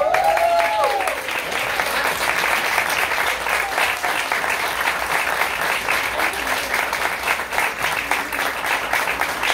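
An audience at a film festival debate applauds loudly and continuously, sustained dense clapping filling the whole stretch, with a brief voice at the very start.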